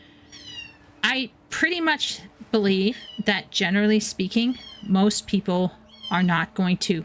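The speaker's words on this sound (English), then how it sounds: "I don't know if you guys can hear him meowing up a storm" A cat meows repeatedly in short, high, wavering cries, mixed with a person talking nearby.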